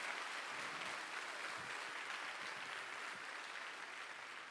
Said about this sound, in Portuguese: Ah, aplauda o Senhor, meu irmão.